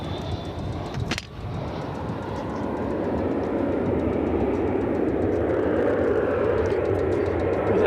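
An American Airlines jet in Medal of Honor livery taking off at DFW, a broad rumbling roar that builds after a brief sharp click and then holds steady and loud.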